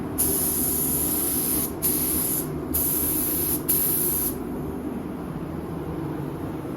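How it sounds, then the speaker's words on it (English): An aerosol spray can lays a light dust coat of paint on an RC car shell in four close, hissing bursts separated by brief pauses, then the hiss falls to quiet room noise. "Give that a dust coat."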